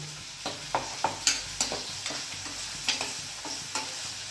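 Minced ginger and garlic paste sizzles in a pan, with a steady frying hiss broken by a series of short stirring scrapes and taps at a fairly close, moderate level and no talk.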